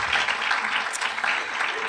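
An audience claps at a university keynote event, a dense, steady patter of many hands filling the room for about two seconds with no talk over it.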